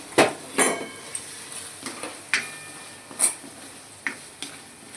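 Flattened rice and boiled potatoes are stirred in a pan with a spoon for Gujarati batata poha, giving a handful of sharp metallic scrapes and clinks spaced irregularly over a faint sizzle.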